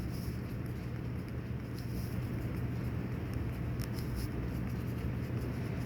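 An answer being written by hand with a pen on paper, a faint, continuous scratchy stroking against a steady low background hum, no voices.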